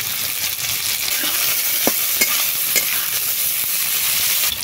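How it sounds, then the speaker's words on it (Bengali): Panch phoron, the Bengali five-spice seed mix, fries in hot oil in a pan with a steady, close, loud sizzle and a few faint clicks of stirring, and no voices. "সব কিছু ভাজা হয়ে গেছে।"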